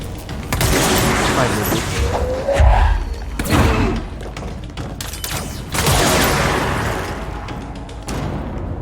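Shotgun blasts in Control thud out in heavy, irregular bursts over several seconds, loud and close amid game sounds, with someone talking over them.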